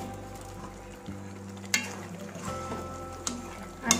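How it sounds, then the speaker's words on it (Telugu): Veg Manchurian balls simmering in bubbling sauce in a pan, a faint steady sizzle and burble with a few soft clicks and scrapes, and no talking. "ఈ విధంగా ఉడకడం స్టార్ట్ అయిన వెంబడే మనం ఇంకా హాఫ్ టీ స్పూన్ కారం పొడి మనం ఇంతకుముందు తయారు చేసి పెట్టుకున్న ఈ బాల్స్ని ఇందులో వేసేసుకున్నాము"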